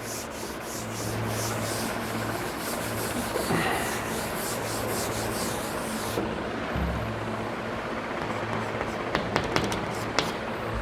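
Writing gets rubbed off a classroom board during a math lesson, a steady scraping and brushing that runs throughout, with a few light taps near the end.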